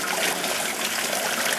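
Hot homebrew beer wort poured through a strainer into a gallon of water in a pot: a steady, even splashing and trickling pour, close and continuous throughout with no talking.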